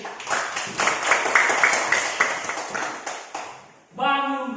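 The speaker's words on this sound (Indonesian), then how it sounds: "Oke, tepuk tangan untuk" A classroom group claps in fairly quick, rhythmic bursts that build and then trail off, and a short tonal ringing sound follows at the end.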